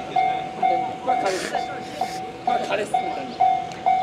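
Level crossing warning bell in Kyoto, Japan, ringing in steady repeated dings as a train approaches, with a voice talking softly in the background and outdoor ambience.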